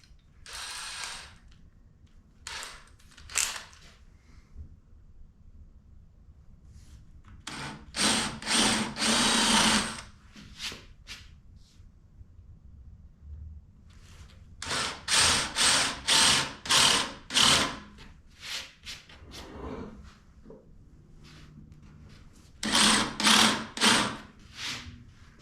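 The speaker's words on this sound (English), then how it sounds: "I'm going to start with a spade bit just to get the hole started." A drill press bores a starter hole with a spade bit, heard as several separate bursts of whirring, grinding cutting with quiet pauses between them, fairly close and loud.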